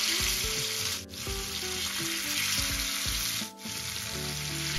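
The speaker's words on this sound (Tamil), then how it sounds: "இப்போ அடுத்து வந்து மீனை நம்ம பொரிச்சு எடுத்துக்குவோம்" Marinated fish fries in an iron pan, loud continuous sizzling and bubbling with brief dips as pieces are moved.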